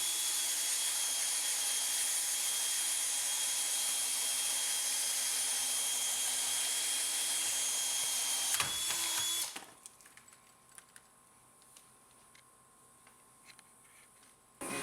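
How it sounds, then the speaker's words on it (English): A loud power drill with a 1 1/8 inch hole saw whines steadily for about nine seconds, then winds down and stops, leaving quiet room sounds with faint clicks. "Now we're going to drill the 1 1/8 hole saw"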